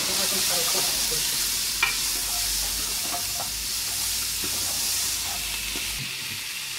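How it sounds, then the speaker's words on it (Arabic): Onions with cinnamon sticks and coriander sizzle in a pot and are stirred, a constant hissing fry broken by occasional scrapes and clinks of the spoon, with no voices. "عندي هنايا العواد ديال القرفه واحد ما ديال القزبر، غادي نحركو كلشي"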